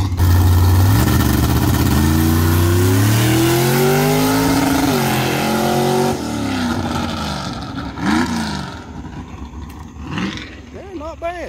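The drag car Bad Penny, a four-speed machine with 5.57 gears, revs hard and loud up close, its engine note climbing and falling in repeated surges before settling and blipping again as it rolls up.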